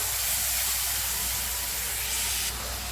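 Yogurt is mixed into hot masala in a pan, a steady loud sizzling hiss heard close up without pause, with no talking.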